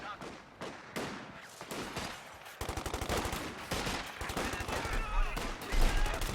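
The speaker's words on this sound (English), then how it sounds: "MG42" MG42 machine gun fire in the strategy game Company of Heroes 2, rattling out in repeated rapid bursts amid other battlefield gunfire, fairly loud and continuous over several seconds.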